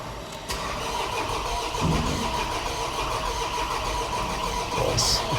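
A VW T5 diesel van engine starts for the first time after its defective cylinder head was replaced, then runs as a loud, steady, close-up churn that keeps going throughout with no talking.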